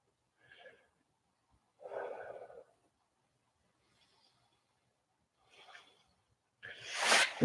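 Yoga breathing made of several separate, deliberate breaths, each a short airy huff or exhale with quiet pauses between, ending with a louder, longer forceful exhale close to the listener.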